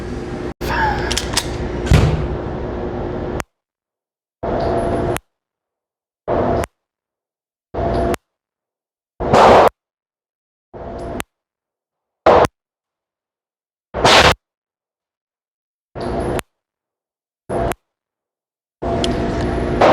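A Sig Sauer P365 compact pistol fired at a range, about a dozen loud, sharp single shots spaced a second or two apart with silent gaps between them.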